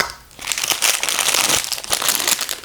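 Close, loud crinkling and rustling of paper packets from a blind box being torn open and handled, in quick irregular bursts.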